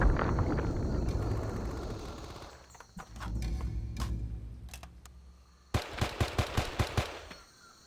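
Covering gunfire in the Vietnam War video game Men of Valor: a burst of automatic fire, a lull with scattered shots and movement, then a rapid string of sharp, loud gunshots.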